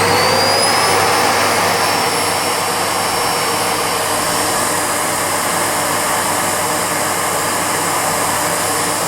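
A Miele S7510 upright vacuum cleaner runs on carpet with a loud, steady, whining roar that holds constant throughout, close by and with no talk over it.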